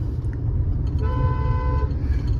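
A single car horn toots for about a second over the steady rumble of a moving vehicle, loud and close.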